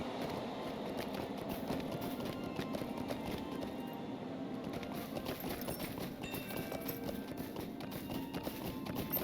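Steady, fast galloping hoofbeats of a horse being ridden in a video game, a dense rhythmic clatter running continuously and fairly loud throughout, with no talking over it.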